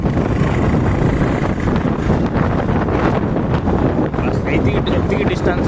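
Hot wind rushing past on a night motorbike ride between Koraput and Rayagada, a loud continuous buffeting roar across the microphone that never lets up.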